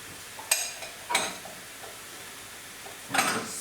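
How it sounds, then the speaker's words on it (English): A spoon stirring nut roast mixture with fresh parsley and seasoning in a bowl, three short scraping strokes spaced apart, close and fairly quiet. "just give that a stir so it all mixes in lovely"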